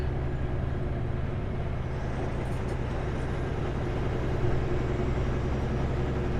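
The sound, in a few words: loud road traffic heard from a car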